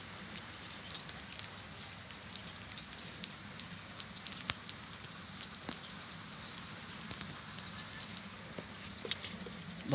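Steady heavy rain hisses down outside a car parked in a rear parking lot, with close, scattered drips and splashes of water off a roof punctuating the even wash of sound.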